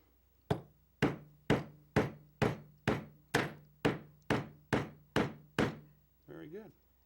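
Eleven sharp hammer blows on wood land at a steady, even pace, each with a short ringing tail, followed by a brief voice.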